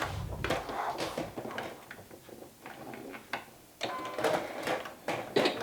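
Sewing machine stitching the shoulder and side seams of a garment, heard as several short bursts of mechanical whirring and clatter broken by brief pauses, fairly close and quiet.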